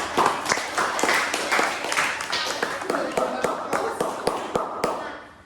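A school class claps together at the end of a lesson, a rough round of hand claps with several sharp, distinct smacks standing out, fading near the end while a voice talks underneath.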